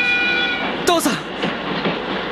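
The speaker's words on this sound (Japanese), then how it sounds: "8時30分発ロンドン行き急行列車が発車いたします。" An express train departing for London in a Hello Kitty video game gives a rising whistle blast and then a rumbling rush of carriages, loud and close, over a faint tonal game background.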